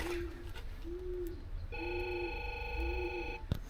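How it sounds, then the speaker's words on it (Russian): An apartment door intercom calls out with repeated electronic tones, short buzzing pulses followed by a steady multi-tone ring, fairly quiet and heard alone without talk. "Звоним на домофон."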